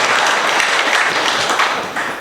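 An audience at a school inauguration of a senior secondary section claps loudly for the school staff, a dense, continuous burst of applause lasting a couple of seconds.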